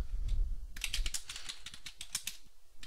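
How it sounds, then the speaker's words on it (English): Rapid keystrokes on a computer keyboard as a file title is entered, a quick run of crisp, close clicks in an irregular rhythm after a brief low rumble, with no talking. "I'm going to type in a title for this file."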